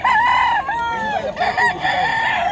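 Gray gamefowl roosters crowing at a busy early-morning pet market in Bocaue, Bulacan, with several overlapping loud crows and some clucking, close by.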